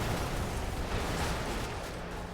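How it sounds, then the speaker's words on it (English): Dense, rumbling explosions roll together in a chain reaction in the mech combat game Brigador, a sustained loud burst of blasts with no talking. "Chain reaction explosions."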